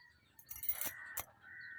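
A crow caws a couple of times, faint and somewhat distant, outdoors where a tomcat is stalking birds, with a quiet background between the calls.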